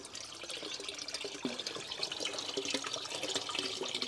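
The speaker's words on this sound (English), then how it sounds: "So now it's draining down in the penstock." Water rushes and trickles steadily down into an empty penstock pipe at a forebay tank, a continuous close splashing flow with no talk.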